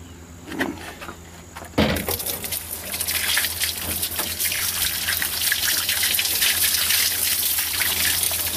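A strong spray of water hisses steadily after a brief quieter start, gushing continuously as it rinses off a car battery at close range.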